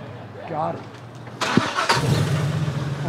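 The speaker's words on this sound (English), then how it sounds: "I had to get it quick before the UPS truck started up." A UPS delivery truck's engine cranks and catches at about 1.4 seconds, then settles into a steady low rumble close by, with people talking before and over it.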